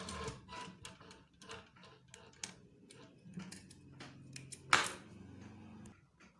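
A sewing machine stitches a trouser button loop, fast ticking needle strokes in short uneven runs with pauses and a sharp click near the end, close and fairly quiet.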